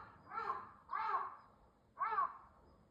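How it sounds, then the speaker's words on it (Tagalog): A crow caws three times, loud harsh calls at an uneven pace against a quiet morning background at a temple in provincial Japan. "Pakinggan nyo yung uwak. Ang ingay-ingay niya."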